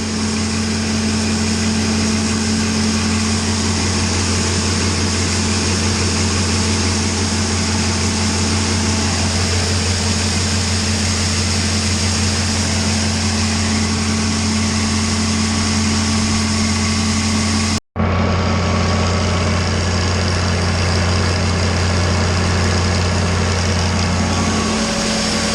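A Super 88 feed grinder mixer runs steadily while grinding and mixing feed, giving a loud continuous mechanical drone with a low engine hum, briefly cutting out near the end before resuming.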